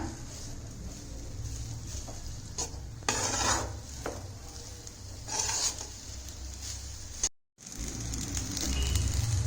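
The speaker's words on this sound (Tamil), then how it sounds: "நல்லா இப்படி கிளறி விட்டுட்டு நல்லா இப்படி நம்ம உதுத்து விட்டுக்கலாங்க" Tomato sevai being stirred and loosened in a pan: repeated close scraping strokes of a utensil against metal, with one brief silent gap.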